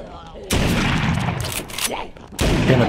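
Gunshots in the zombie game The Walking Dead: Saints & Sinners, two loud close blasts with a reverberant tail after each, fired at a walker at point-blank range.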